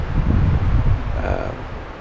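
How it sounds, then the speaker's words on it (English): Strong wind buffets the microphone at a dispersed campsite in the Ouachita National Forest, a steady low roar with rustling that eases slightly toward the end, with no voice heard. "the wind's not dying down"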